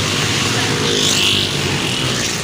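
Motorcycles streaming past on a road at a crowded fair, their engines making a loud continuous roar close by that swells slightly midway.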